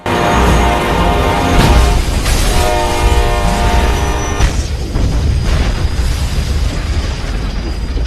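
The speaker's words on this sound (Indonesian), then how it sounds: "pelaku yang berada di belakang terkena hantaman kereta api yang membuat mobilnya hancur" A train slams into a car in a 2012 action film, its horn blaring with sustained loud tones over a heavy rumbling impact and crunching wreckage that fills the scene.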